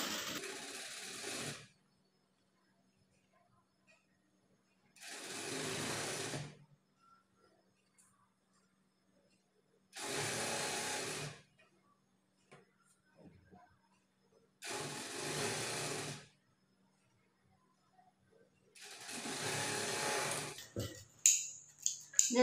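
Sewing machine stitching a garment neck piece in five separate bursts of about two seconds each, with quiet pauses between them and faint handling noises, close and moderately loud.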